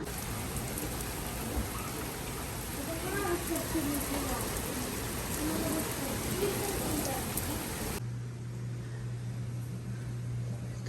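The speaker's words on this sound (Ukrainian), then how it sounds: "Зараз буде дощик" Steady rain hisses down as a dense, even wash of noise for several seconds, then gives way to a quieter steady hum.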